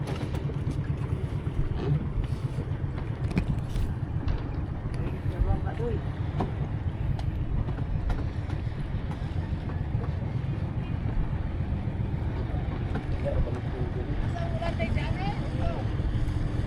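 The large engine of a new motorboat drones steadily at low pitch the whole time, with wind buffeting and voices talking over it now and then.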